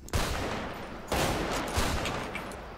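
Gunfire from a weapon in GTA 5, a rapid volley of sharp shots, then a second burst about a second later, fairly loud and close, with no talking over it.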